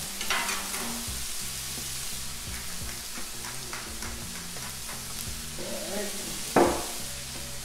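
Ham and vegetables sizzle on a Blackstone griddle in a steady, moderate hiss, joined by scraping stirs and a sharp clatter near the end, with a brief voice over it.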